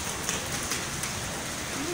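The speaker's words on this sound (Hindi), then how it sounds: "बारिश काफ़ी तेज़ हो रही है और हवा" Heavy monsoon-style rain with wind pours down steadily, a dense, even hiss of drops close by with no pause.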